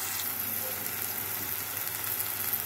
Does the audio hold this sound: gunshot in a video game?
no